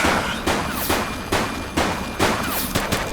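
Gunfire in The Precinct comes as a series of sharp, loud shots at an irregular pace, about six or seven cracks in quick succession with short echoing tails and no speech.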